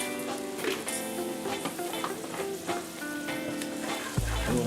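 Garlic sizzles in a hot pan with a bright, continuous crackle and intermittent stirring scrapes, close and steady, ending with a soft low thump.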